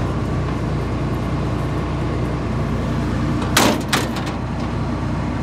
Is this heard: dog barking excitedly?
no